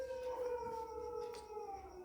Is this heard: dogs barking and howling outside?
yes